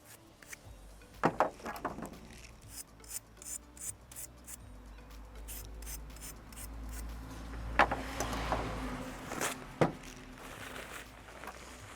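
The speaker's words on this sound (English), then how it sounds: "Use a brush to get any crud that's on them off." Brush scrubbing crud off sprayed pruning tools, giving quiet intermittent rasping strokes in short bursts with a few louder scrapes, close by in a fairly quiet setting.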